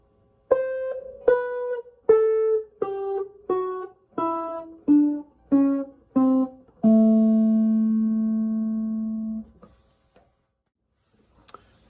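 Electric blues guitar in Chicago style picks a descending run of single notes one by one, about ten clear plucks, then a final note rings out long and decays into silence; no voice over it.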